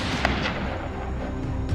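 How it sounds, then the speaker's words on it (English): A gunshot in a forest while hunting wild boar: a sharp crack early on, followed by booming reverberant echoes rolling on through the rest of the moment. "The gunshot rang out, breaking the silence of the forest."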